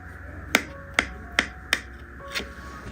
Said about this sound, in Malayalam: ഇനി വട്ടയപ്പം ഇഷ്ടമുള്ള ഷേപ്പിൽ ഒന്ന് കട്ട് ചെയ്തെടുക്കാം.